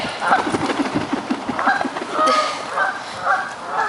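Geese honking repeatedly, nasal calls rising and falling in quick bursts, with rustling and movement noise underneath.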